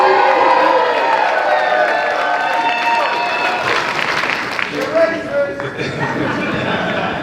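A large indoor crowd at an Intuit Dome fan event for the Clippers cheers and applauds in a loud, sustained wash, with whoops and a voice talking over the noise as it fades.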